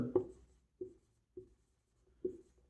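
Chalk or marker strokes on a classroom board during a maths lesson on squares and square roots, four short separate taps and scrapes spaced about half a second apart, fairly quiet with no talk.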